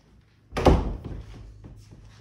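A double closet door in a house shuts with one solid thunk, a close, fairly loud knock followed by a short fading rattle and quiet room tone.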